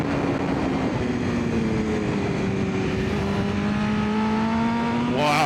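A 2025 BMW S1000RR sport bike in 3rd gear pulls hard out of a corner apex at around 4,500 RPM, its engine note climbing steadily as a loud, continuous rising drone, with a sharp burst at the very end.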